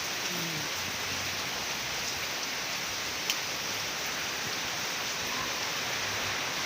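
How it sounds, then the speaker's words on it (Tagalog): Steady, heavy typhoon rain pours down, a dense continuous hiss of drops with no voices, one brief tick partway through. "lakas ng ulan"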